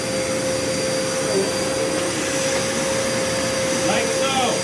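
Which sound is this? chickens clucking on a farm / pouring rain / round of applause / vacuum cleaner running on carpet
vacuum cleaner running on carpet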